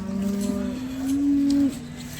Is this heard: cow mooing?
yes